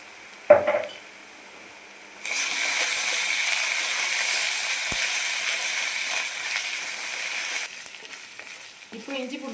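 Ginger garlic paste hits a hot pan and sizzles loudly and steadily for several seconds, with a clink of a utensil before and stirring scrapes after.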